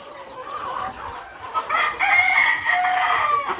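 Rooster crowing and hens clucking together at a rural countryside yard, a dense chorus of overlapping fowl calls growing louder and busier partway through, with no talk.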